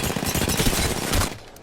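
Rapid gunfire from the RE-45 pistol in the video game Apex Legends, a dense run of loud, closely spaced shots lasting over a second before trailing off.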